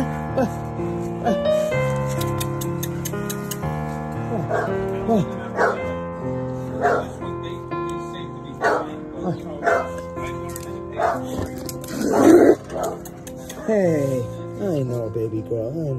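Several dogs being given up by a breeder bark in repeated short bursts and let out whimpers, mixed with a steady tonal background and a person talking nearby.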